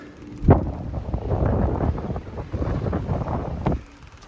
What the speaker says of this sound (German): Wir haben den Ebora, leider. Und wir segeln jetzt hart am Wind.